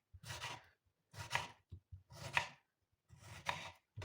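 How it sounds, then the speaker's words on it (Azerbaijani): A knife chops tomatoes on a cutting board in four separate, crisp strokes about a second apart, close and quiet, with no talking. "Bax bu şəkildə pomidorlarımızı doğrayırıq"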